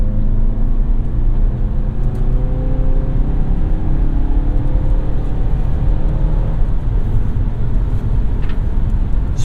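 A 2016 Mazda CX-5 AWD drives with a loud, steady engine drone and road rumble heard from inside the cabin. Engine tones sweep as the gears shift, then settle into a constant hum.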